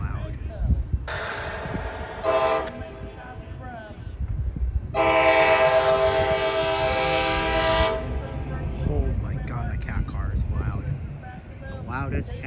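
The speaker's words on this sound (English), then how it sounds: "Okay, 732 should be pulling up any minute." Amtrak Capitol Corridor train 732 arriving at Oakland's Jack London Square, its very loud cab car sounding long horn blasts, first two short bursts then a sustained blast, over the rumble of the approaching train with people talking nearby.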